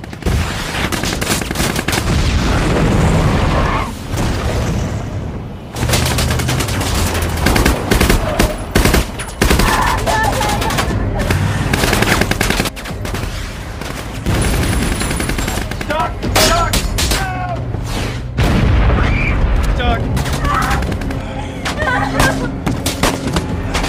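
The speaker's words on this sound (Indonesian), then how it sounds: "baku tembak pun terjadi" A dense cinematic firefight with relentless automatic gunfire, single shots and booming explosions, loud and layered over a score with occasional voices mixed in.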